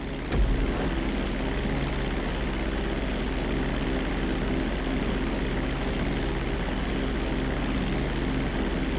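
A propeller airplane in a GTA 5 pilot lesson takes off and flies, its engine drone steady, loud and close throughout without a break.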